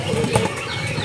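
Forest oriole in an aviary cage flapping its wings, a close, steady soft fluttering rustle through about a second with one brief stronger beat near the middle.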